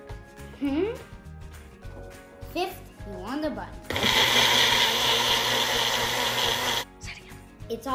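After some talking and clatter, a blender mixing Oreo popsicle ingredients roars loudly and steadily for about three seconds, then cuts off.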